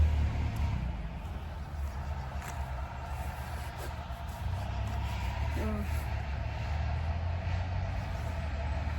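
Traffic passes on a road below open countryside, a faint, distant rumble of vehicles. A vehicle can be heard going by in the background.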